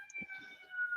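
Emergency sirens hold a steady high wail throughout, moderately distant and continuous, with faint low rumbling underneath and no clear talk.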